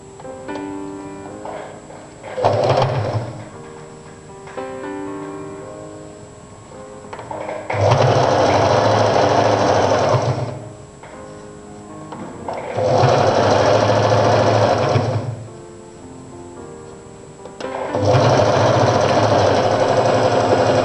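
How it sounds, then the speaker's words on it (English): A sewing machine stitches a jacket collar in loud bursts of steady mechanical whirring, four longer runs broken by short pauses, with fainter handling sounds in between. "make a stitch line to the folded side of the collar"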